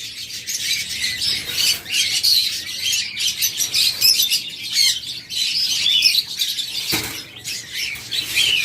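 A sea green pair of pet birds for sale squawks and chirps continuously, shrill and loud at close range, with overlapping calls, a brief sharp thump near the end, no speech.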